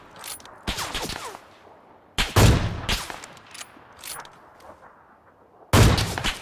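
Gunfire in the battle royale game PUBG: several loud, sharp shots and short bursts spaced irregularly, with quieter distant shots between them and no speech.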